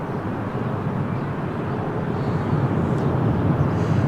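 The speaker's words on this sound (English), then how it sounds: "It's Lufthansa Airbus A321 200 from Frankfurt." Lufthansa Airbus A321-200 jet arriving from Frankfurt, heard as a steady, loud broadband engine roar mixed with wind rumble on a blustery day at Lisbon Airport, growing slightly stronger toward the end.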